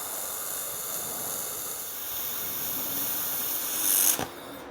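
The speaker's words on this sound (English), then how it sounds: "I may go ahead and weld that section, but last time I almost melted through" Steady crackling hiss of an electric welder running a bead along a section of steel frame during fabrication, continuous and close, ending with a brief sharp burst before it cuts off.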